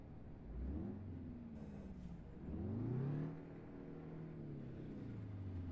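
Diamond Reo Royale truck engine in American Truck Simulator, a fairly quiet steady diesel drone that rises and falls in two smooth revving sweeps, heard alone without talk.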